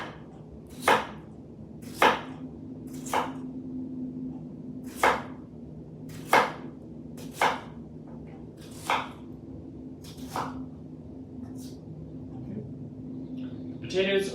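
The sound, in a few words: chopping potatoes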